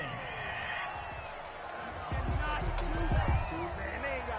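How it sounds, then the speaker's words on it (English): A home crowd in a PS4 football video game cheers a call, a swelling roar of whoops rising in the second half beneath ongoing play-by-play commentary. "This home crowd, they're happy with that call."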